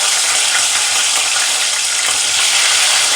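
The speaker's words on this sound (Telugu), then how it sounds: "నూనె సురసురా అంటుందబ్బా." Green chillies sizzling in hot oil, a loud, dense, continuous crackling hiss held close and unbroken throughout, with no voices.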